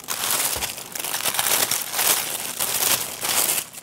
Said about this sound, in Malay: Kita buka lah dia punya plastik jap.